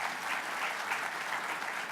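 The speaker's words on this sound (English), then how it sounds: "they deserve applause" An audience at an annual community gathering program applauds in a steady, moderately distant wash of clapping that continues without a break.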